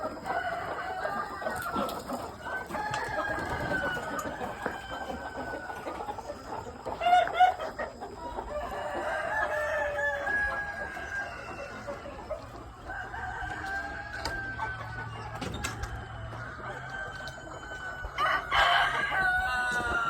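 Roosters crow repeatedly over steady clucking and chatter from a flock of chickens, including Black Copper Marans and Speckled Sussex, a busy farmyard chorus with no talking.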